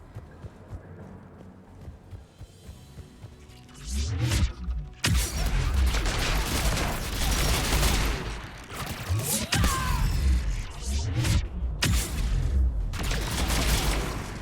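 Weapon fire in the video game Mass Effect 3, with heavy booming shots and rapid bursts over loud continuous battle noise, repeated explosive hits through the second half.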